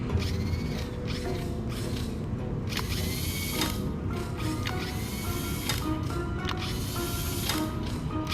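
A multi-tool repairs a coupler in the VR game Star Wars: Tales from the Galaxy's Edge, giving repeated mechanical whirring and ratcheting bursts with metallic creaks, steady and close, with no talking.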